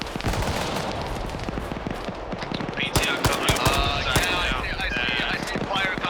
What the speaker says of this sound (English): Shots are coming out of the southern side of town